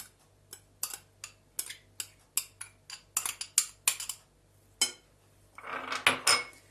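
A utensil clinks and taps against a small bowl while green lentil salad is mixed, a quick run of light knocks, then a brief soft rustling scrape near the end.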